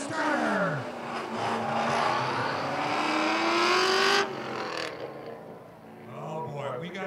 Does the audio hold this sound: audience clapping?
no